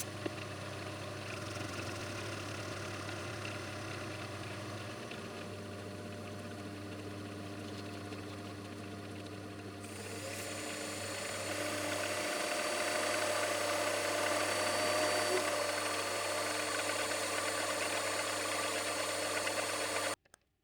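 A metal lathe turns a small nub of steel, reducing its end: a steady mechanical hum and whir that grows louder and busier partway through as cutting begins, running continuously with no talk.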